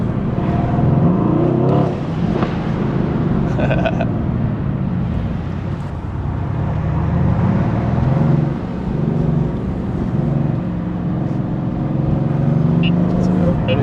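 Mercedes AMG GT accelerating hard through underpasses with the windows down, a loud sustained engine roar rising and falling close by, with people talking over it.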